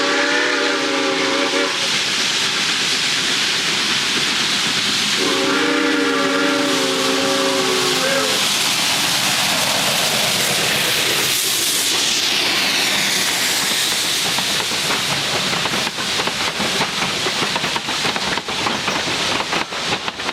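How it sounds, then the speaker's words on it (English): A Rio Grande steam locomotive sounds two loud, long whistle blasts, then roars past close by with heavy chuffing and hissing steam, the rumble swelling and holding steady to the end. "train 464, pulled by 480, roars past us."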